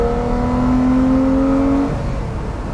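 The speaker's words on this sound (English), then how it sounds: "You have that sense of occasion, that angry, naturally aspirated V12 right behind you." Lamborghini Murcielago Roadster with its naturally aspirated V12 accelerating, a loud sustained engine roar with a rising whine that drops off abruptly near the end, heard up close without speech.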